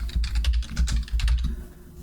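Fingers tap out a short burst of keystrokes on a computer keyboard while entering a serial connection setting, giving quick close clicks for about a second and a half, then the typing stops.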